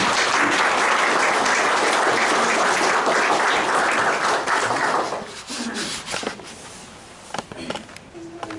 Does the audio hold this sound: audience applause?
yes